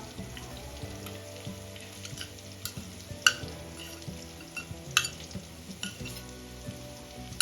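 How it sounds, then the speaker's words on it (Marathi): Green masala sautéing in a pan after melted tomatoes, a soft continuous sizzle with scattered sharp spatter pops and occasional spoon clinks, close and moderately quiet. "इथे आपल्याला हा मसाला छान परतून घ्यायचा आहे त्यामध्ये असलेला कच्चापणा निघून जाईपर्यंत"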